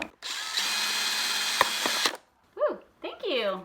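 A power drill bores drainage holes in a container for planting strawberry seeds in an urban garden, a loud steady whir for about two seconds that cuts off before people talk.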